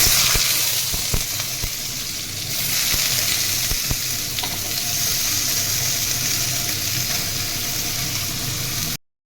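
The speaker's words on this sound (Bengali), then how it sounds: "তেল গরম হয়ে গেছে, আমি পেঁপেগুলো এখন দিয়ে দেবো কড়াইতে" Papaya pieces fry in hot oil in a wok, a loud, continuous close-up sizzle with a few sharp clicks and spatters, cutting off abruptly at the end.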